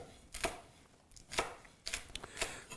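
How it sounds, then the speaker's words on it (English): Three crisp knife strokes chop onions on a cutting board, spaced about a second apart. Each is a sharp, close thud against the board, with quiet pauses between the cuts and no talking. "Let's start cutting the onions up. We're going to slice them nice and small."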